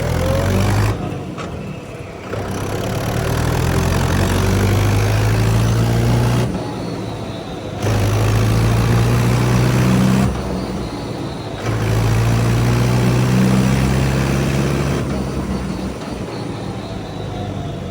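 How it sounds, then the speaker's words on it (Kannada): A Mahindra 475 DI MS SP Plus tractor's four-cylinder engine runs close by with a steady, heavy rumble, easing off briefly several times before resuming, with no talking. "ಹಾಗಾಗಿ ಬನ್ನಿ ಹಾಗೆ ಈ ಟ್ರ್ಯಾಕ್ಟರ್ನ ಸೌಂಡ್ ಕೇಳಿಸ್ಕೊಳ್ಳಿ."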